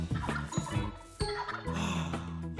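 Wild turkeys gobble in an animated children's nature cartoon, several short, loud, warbling calls bursting out in quick succession over a dense background.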